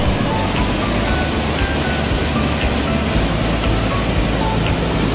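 A waterfall at Somnath roars in a constant, loud, broadband rush of falling water that never lets up, with no voices on top.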